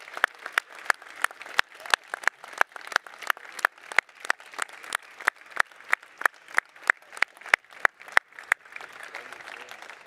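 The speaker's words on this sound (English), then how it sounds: "round of applause" At an award ceremony, a small audience claps in a sparse, regular rhythm, with distinct individual claps ringing out roughly every third of a second for ten seconds, then thinning at the end.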